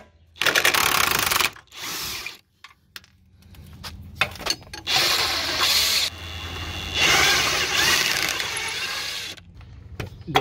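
A 21 mm wrench works loose the lower control arm bolts on a Jeep Grand Cherokee WJ, giving close metallic clicks and ratcheting rasps in stop-start bursts separated by brief pauses.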